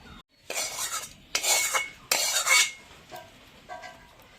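Metal spatula scraping and stirring moong dal with pumpkin leaves in a pan, in a few loud, close bursts of clinking and scraping separated by brief pauses.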